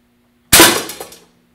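A single test shot fired from a gun held in a ballistics fixture: one sharp, loud crack that bursts out of silence and decays over about three quarters of a second, with a steady low electrical hum underneath.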